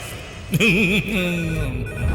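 A telephone rings with a loud electronic warbling trill, one short burst followed by a steadier held tone, heard indoors with no speech over it.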